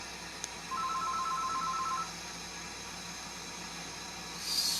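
A phone sounds faintly in the background of a glass marble making demonstration, a steady beeping tone lasting over a second, over constant hiss from a torch, with no talk.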